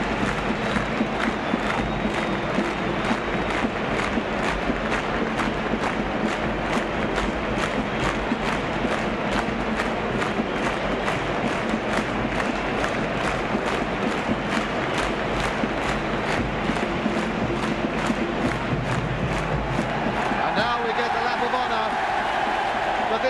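Swindon Town football supporters roaring and cheering after beating Arsenal in a 1969 match, a dense sustained crowd din with a commentator talking over it and an old broadcast's rhythmic crackle.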